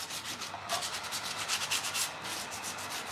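Sandpaper rubbed by hand over a painted old door, a steady rhythmic scratching with quick back-and-forth strokes, close and moderately loud, with no talking.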